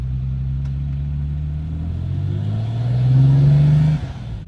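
An S38-swapped BMW E30 Touring engine revs while driving on the road, a loud, low droning note that climbs steadily in pitch and volume, peaks, then drops off abruptly as the throttle lifts, heard from inside the car.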